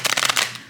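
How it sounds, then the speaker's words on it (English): Brief riffle of a tarot card deck being shuffled, a quick close run of papery flicks fading out within a second. "I'm gonna shuffle 3 times."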